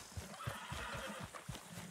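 A horse whinnies in the video game Red Dead Redemption 2, a short, fairly close neigh with several rhythmic pulses over hoof-like thuds.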